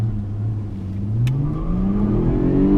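A 2016 Jaguar XF 35t R-Sport launches hard from a standstill with traction control off, its engine note climbing steadily and loudly as it accelerates.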